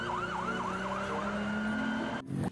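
A toy police car siren wails in a steady, repeating up-and-down pattern, close and fairly loud, then cuts off abruptly near the end with a brief clatter.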